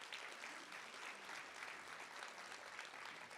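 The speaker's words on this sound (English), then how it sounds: "Let's just give Dana a round of applause" An audience at an academic affairs event applauds steadily for several seconds, a dense, even wash of clapping with no voices over it.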